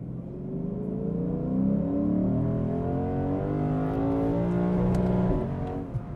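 A deep V8 engine in a 2024 Lexus IS 500 roars steadily from inside the cabin, its pitch rising as it revs up, loud and sustained with no talking.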